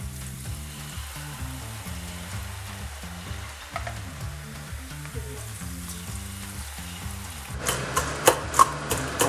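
Takoyaki batter frying in hot oil, a steady sizzle running throughout beneath a low rhythmic background, with sharper crackles and spattering pops near the end.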